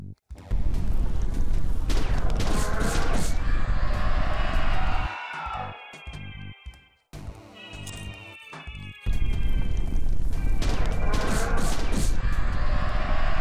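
Pistol shots ring out in the horror video game Revenance. Bursts of sharp, loud cracks and impacts fill most of the stretch, broken by a short lull in the middle, with some talk mixed in.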